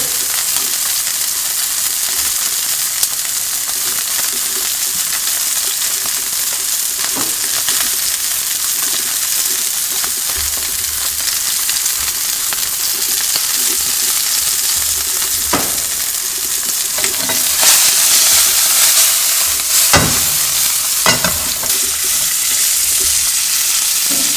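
Meltique wagyu steak seasoned with salt and pepper frying in a pan over lowered heat, a steady loud sizzle and crackle running throughout with occasional sharper pops, no voices.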